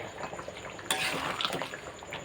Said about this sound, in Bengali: নেড়ে দিতে হবে, উপর নিচ করে দিতে হবে মাংসগুলো